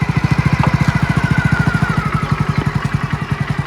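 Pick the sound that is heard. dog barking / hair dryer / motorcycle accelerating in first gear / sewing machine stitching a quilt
motorcycle accelerating in first gear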